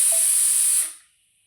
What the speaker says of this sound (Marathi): गॅस पेटवलेला आहे आणि त्याच्या कढईमध्ये तेल टाकलेलं आहे. ह्याच्यामध्ये मी एक छोटासा टोमॅटो घेतलेला आहे.